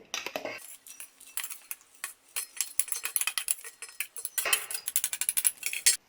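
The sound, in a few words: cooked dal transferred into a bowl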